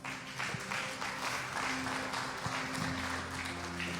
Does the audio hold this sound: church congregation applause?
yes